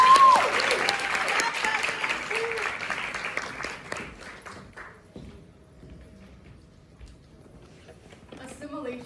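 Audience applause welcoming a poet to the stage at a Yale poetry and dabke event, loud clapping at first that thins and fades over several seconds, with scattered voices and a brief cheer near the end.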